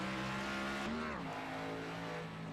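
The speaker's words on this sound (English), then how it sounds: "He revs it up and just hits the curbs a little bit" A Chevy Camaro race car on the Sonoma track during qualifying revs with a loud, steady engine drone that briefly climbs in pitch then drops as it hits the curbs, heard from nearby without voices.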